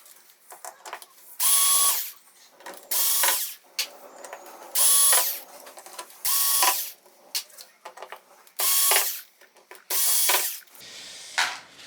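Powered screwdriver backing screws out of a VIZIO M60-C3 TV in six or seven evenly spaced whirring bursts, each about a second long, separated by quiet handling.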